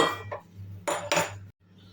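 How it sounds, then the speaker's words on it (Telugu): A metal frying pan set onto a gas stove gives a few close, sharp metallic clanks and scrapes, followed by a brief quiet. "పెన్నం పెట్టుకోవాలి."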